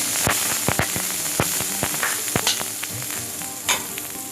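Chicken keema ghugni frying with ground spices in a pan, a steady sizzle broken by sharp spattering pops and the scrape of stirring, close and fairly loud with no talking.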